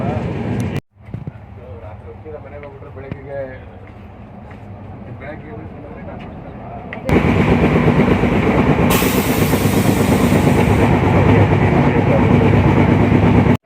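Train 11013, an express from Mumbai LTT to KSR Bengaluru, rumbles along with a steady roar that grows louder and harsher midway as the carriage picks up speed, wheels and hiss filling the sound.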